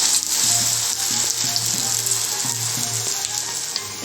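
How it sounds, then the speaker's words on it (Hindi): Veg lollipops deep frying in hot oil make a loud, dense bubbling sizzle close by, continuous with a faint low rhythmic throb underneath, and no voices. "इस तरह से हम सारे लॉलीपॉप फ्राई कर लेंगे।"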